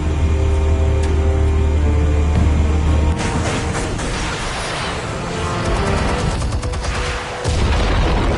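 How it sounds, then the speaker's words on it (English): Explosives detonate in a PS4 video game: a rumbling blast suddenly bursts out partway through, followed by crackling debris and a second surge of booming noise, loud and close. "Explosives armed. Fire when ready."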